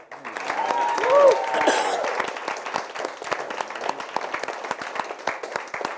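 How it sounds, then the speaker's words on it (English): A studio crowd at a Milwaukee arts show gives Kwasi a round of clapping that swells early, then thins into scattered individual claps, with a voice briefly heard over it. "Let's hear another round of applause for Kwasi."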